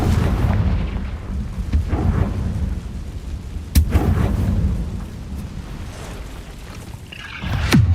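A Confringo fire spell exploding in Hogwarts Legacy: deep, rumbling blasts with a sharp crack near the middle and a rising whoosh at the end, loud and close.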